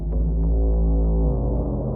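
Deep, sustained burial bass synth tone produced in Ableton, a steady throbbing low hum with stacked harmonics that holds level throughout, alone without talk.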